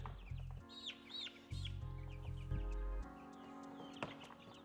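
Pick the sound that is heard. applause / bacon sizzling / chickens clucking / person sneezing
chickens clucking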